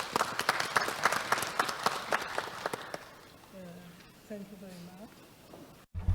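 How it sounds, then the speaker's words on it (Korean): Audience applause welcoming a speaker at a Korean-language forum on children during the 2024 World Bang Jeong-hwan Conference: a hall of clapping for about three seconds that fades out, then a person begins talking. "박수로 모시겠습니다."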